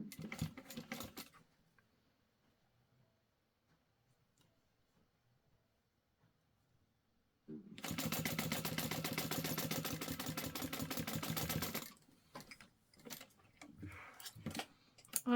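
A sewing machine runs in a steady buzzing burst for about four seconds while basting a fabric baby sling, between quiet stretches and softer handling clicks of the material.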